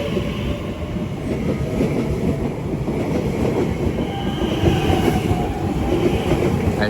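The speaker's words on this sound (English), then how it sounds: "a pair of Great Western Railway 387s going from Didcot Parkway to London Paddington" A pair of Great Western Railway Class 387 electric trains rumble past at West Ealing on the Great Western Main Line, a steady loud roar of wheels with rhythmic clatter and faint squeal throughout.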